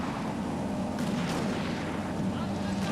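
Rolling gunfire from units in the samurai-era strategy game Shogun 2: Fall of the Samurai, a dense, continuous barrage of muffled shots and booms that runs for the whole stretch.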